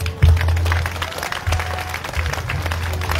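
Applause rises from a worship congregation at a Haitian Creole gospel service, sustained clapping over a heavy low musical drone, loud and close, with voices and crowd noise mixed in.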